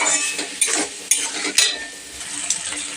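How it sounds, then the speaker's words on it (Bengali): Spice paste with chili powder stir-fried in a pan, a steady close sizzle broken by several sharp scrapes and clinks of a spoon against the pan, with no talking. "দেখতেই পাচ্ছ মশলাটা প্রায় অনেকক্ষণ কষিয়েছি"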